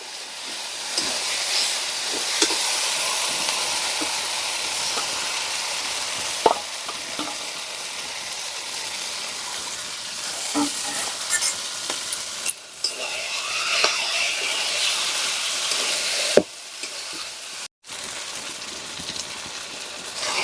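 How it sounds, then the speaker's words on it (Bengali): Marinated desi chicken hits a pan of fried-down spices, sizzling and hissing steadily while a utensil scrapes and stirs it around in irregular bursts, close and loud with no voices. "এবার দিয়ে দিচ্ছি ম্যারিনেট করা মাংসটা।"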